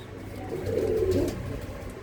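A pigeon coos in a loft, one soft rolling call swelling in the middle and then fading, set against a low steady background hum.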